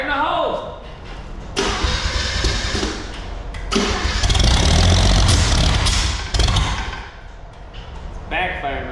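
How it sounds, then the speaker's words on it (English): A Nifty 250 straight-six turbo engine cranks and fires up, running roughly with loud bursts of backfire and a rising, surging roar before settling, with voices talking intermittently over it. "It's backfiring real bad."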